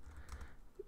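A computer keyboard is typed on at a desk while web templates are built, a few quick keystrokes heard faintly in a quiet room.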